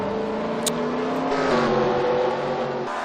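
A race car in a Pokemon-themed racing video game roars past, its engine whine rising and shifting pitch as it goes by, loud and continuous over about three seconds.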